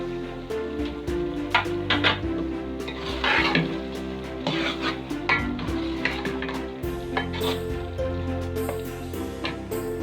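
Green chillies, ginger and coriander go into mutton keema with peas cooking in a pot, with steady stirring and scraping of a utensil against the pan over a low sizzle, close and continuous.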